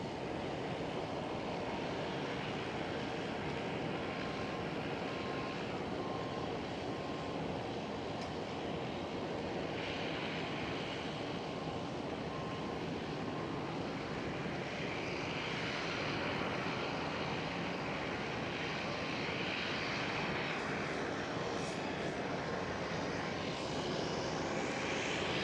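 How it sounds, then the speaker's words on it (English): A Transavia Boeing 737 airliner lands at Amsterdam Schiphol, a steady, loud, broad roar of jet engines lasting throughout with no pauses. "Right on time for the touchdown of this Transavia 737."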